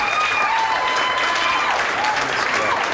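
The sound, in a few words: audience clapping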